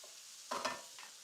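Meat renderings fry in a hot pan with a faint, soft sizzle, broken by one brief louder scrape of stirring and a weaker second one.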